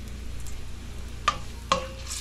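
Sarsiado sizzles steadily in a frying pan while a utensil stirs it, with two sharp scraping clinks standing out over the continuous close frying hiss.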